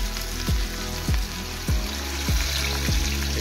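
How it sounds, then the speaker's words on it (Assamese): Fish fries in hot oil with a steady, close crackling sizzle and a few soft stirring knocks repeating about every half second. "ধুনীয়াকৈ তেলটো গৰম হওক আৰু মাছখিনি ধুনীয়াকৈ ফ্ৰাই কৰি ল'ম।"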